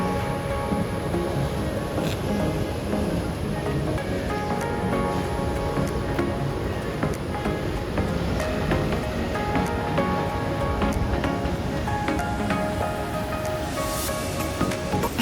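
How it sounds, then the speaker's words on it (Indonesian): Waves of the Indian Ocean break against the shore at Menganti Beach in Kebumen, a steady wash of surf heard from a distance, constant and unbroken for the whole stretch. "Kita bisa memandang ke laut lepas Lautan Hindia, disertai deburan ombak yang mengalun teratur."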